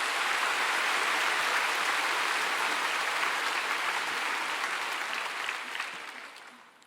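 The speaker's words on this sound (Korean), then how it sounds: "오늘 여기 나오신 어머님들, 아버님들 위해서 한번 뜨거운 박수로 격려해 주세요" A church congregation gives warm applause for the mothers and fathers present: a thick, steady wash of clapping from many hands that gradually thins and fades away.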